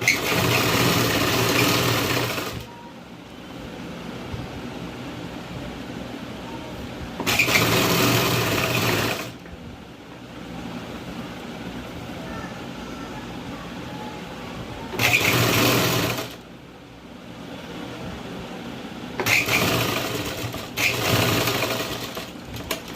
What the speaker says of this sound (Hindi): अब ये देखिए सेंटर से इस तरफ हम सिलाई लगाएंगे।